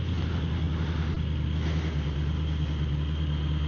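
A steady, loud engine drone with low rumble and rushing road noise, like riding on a motorcycle at constant speed, with no voices.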